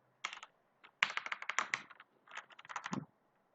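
Bursts of quick, close keystrokes on a computer keyboard while code is typed, in short clustered runs separated by brief pauses, with no talking.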